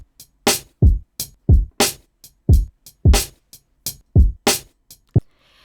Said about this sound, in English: Without Transit, the drums sound like this. It's just a little drum loop.